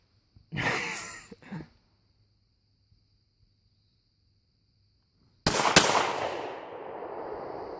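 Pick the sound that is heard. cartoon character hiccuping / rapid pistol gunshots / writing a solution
rapid pistol gunshots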